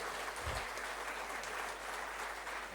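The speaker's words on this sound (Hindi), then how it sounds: "एक बार जोरदार तालियां उनके लिए।" Audience applause at an Uttarakhand honour ceremony for brave soldiers, a steady wash of many hands clapping that holds evenly throughout at a moderate, somewhat distant level.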